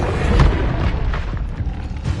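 Incendio fire spell in a Hogwarts video game, a loud, close burst of fiery booming and rumbling at the start that settles into a crackling roar with a few smaller thumps.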